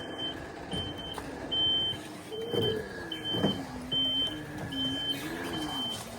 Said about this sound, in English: Put it in reverse, and you can use the throttle, and it moves just fine in reverse